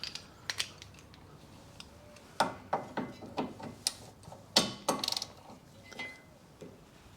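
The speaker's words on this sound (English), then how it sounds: "And double check with a ratchet." A ratchet clicks in short repeated bursts while brake bolts are tightened on a 2013 Mini Cooper D 1.6 diesel during a rear brake pad and disc job, the close sharp pawl ticks coming in uneven clusters with no talk.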